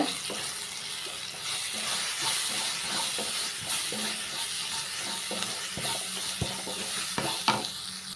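Chili powder and masala are stirred in a hot frying pan for a chicken cumin fry, giving a steady close sizzle and hiss with scattered scraping taps of the spoon throughout, and no talking.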